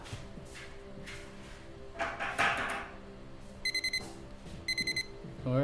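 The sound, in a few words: electronic beep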